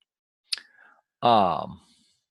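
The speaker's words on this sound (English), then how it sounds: "I'm going to right click the invoices table" A single computer mouse right-click, a short sharp tick, followed a moment later by a brief burst of a man's speech.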